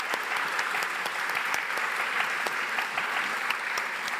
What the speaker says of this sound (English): I think applause for Jilly.